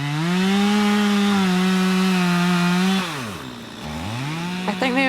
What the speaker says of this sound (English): We just got glimpses of Kyle and Simon and Tom on the chainsaws